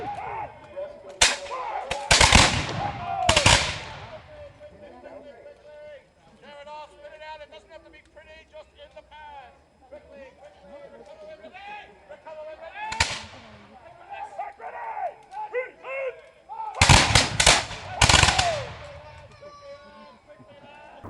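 The battlecruiser Hood fires its anti-aircraft guns in the naval combat game World of Warships. Sharp, loud bursts of rapid gunfire come in clusters near the start, middle and end, with a voice talking steadily in the gaps.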